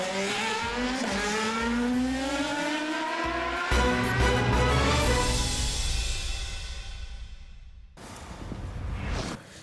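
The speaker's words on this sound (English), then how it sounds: "Lewis Hamilton and co put their cars through their paces ahead of the new Formula" Formula One cars testing at the Jerez circuit, with high engine whines rising through the gears as a car passes. A sharp cut is followed by another car roaring past.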